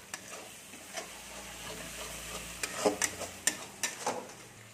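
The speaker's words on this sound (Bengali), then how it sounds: "এর মধ্যে আলু আর ফুলকপি ভেজে রেখেছিলাম সেগুলো আমি দিয়ে দিচ্ছি, দিয়ে এর সাথে ভালো করে আমি কষে নিচ্ছি।" Fried potato and cauliflower being stirred into a sautéed spice paste in a pan, giving soft scraping and clicking strokes over a low sizzle, growing busier and louder toward the end.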